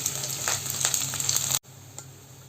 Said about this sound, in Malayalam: വെളിച്ചെണ്ണ ഒന്ന് ചൂടായി വരുന്ന സമയത്ത് നമുക്കിതിലേക്ക് അരിഞ്ഞു വെച്ചിരിക്കുന്ന ചെറിയ ഉള്ളിയാണ് ചേർത്ത് കൊടുക്കുന്നത്.